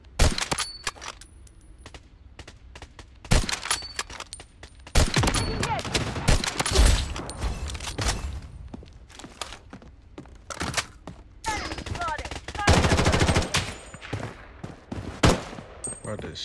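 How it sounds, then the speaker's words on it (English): Gunfire in the shooter game Blood Strike: loud bursts of automatic fire and sharp single shots, some close and some distant, come in irregular clusters across the span, with occasional metallic clicks. "who's shooting?"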